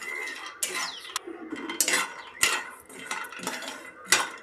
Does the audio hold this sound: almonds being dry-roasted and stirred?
yes